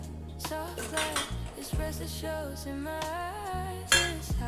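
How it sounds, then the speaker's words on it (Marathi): Raw mango pieces drop into a pressure cooker with a few metallic clinks and clatters, heard over steady background music. "त्यात कैऱ्याच्या फोडी टाकून घ्यायच्या आपल्याला"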